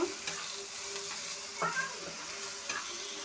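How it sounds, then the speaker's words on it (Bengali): Ginger paste frying in oil for a runner bean dish, a steady soft sizzle with a few scraping stirs of a spoon in the pan, close and alone with no talking. "এক চামচ আদা বাটা ভালো করে এটা তেলে ভেজে নেব"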